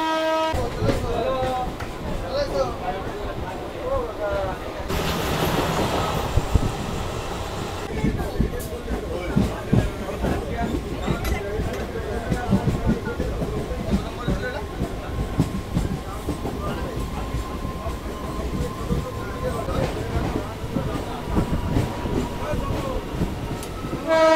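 A new local train running from Kolkata to Digha rumbles steadily along the rails with continuous wheel clatter and car noise, a brief louder burst partway through, while people talk in the background.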